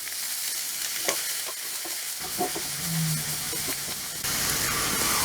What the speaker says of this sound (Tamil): கருவேப்பிலை தழை, இது கொஞ்சம் ஆனியன் கொஞ்சம் வதங்கட்டும்